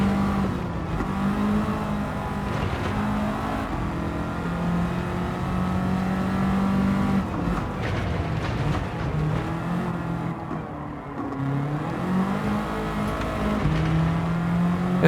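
Gran Turismo 7 race car engine revving hard from too much throttle, a steady loud drone with pitch rising and falling through gear changes over fifteen seconds, no voices.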